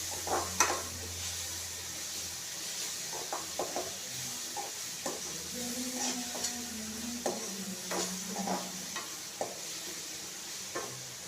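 Ingredients for a seppankizhangu (taro root) kara kuzhambu frying in a pan, with a soft steady sizzle and repeated light scrapes and taps of stirring throughout.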